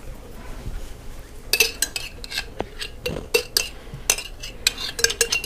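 A spoon scraping and knocking inside a pressure cooker pot, pulling out blue cheese tuna shells: quiet at first, then a run of sharp metallic scrapes and clinks in irregular bursts, close up.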